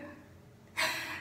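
Heavy breathing through the mouth by a woman who cannot breathe through her nose, heard as a quiet lull followed by a single loud, breathy exhalation that rises suddenly and stays strong to the end.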